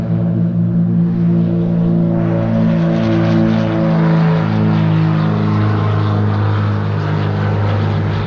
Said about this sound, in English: And there goes the takeoff engine firing up.